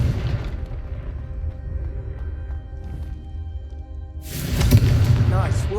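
Confringo fire spell explosion in Hogwarts Legacy: a low rumbling bed, then a loud booming blast erupting near the end with crackling debris, no talking.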